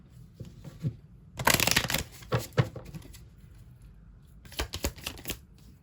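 A deck of cards being shuffled, two bursts of riffling flutter with soft handling taps and bridging in between, close and fairly quiet in an otherwise still room.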